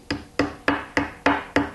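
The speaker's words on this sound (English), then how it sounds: "just tap it with the ball peen hammer, and as you see, it just comes right out" A ball peen hammer taps a metal shim out of a babbitt bearing mold on a J. A. Vance planer/matcher, six sharp evenly spaced strikes ringing briefly, close and loud.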